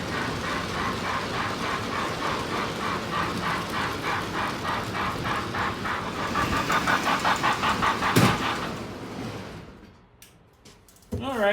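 A model train running on a layout gives a steady motor hum and a regular clicking rhythm for several seconds, then a sharp knock before the sound fades to near quiet.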